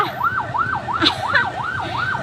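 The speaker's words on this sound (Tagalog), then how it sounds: "maingay na si ambulansya" A loud ambulance siren wails in a fast, repeating up-and-down rhythm close by, with a vehicle engine rumbling underneath.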